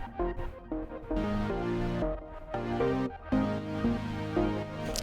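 Twin 3 crystal synth patch called Cinematic Zimmer, run through a crystallizer, plays shimmering bright chords in short phrases with small gaps between them, clear and close with no voices.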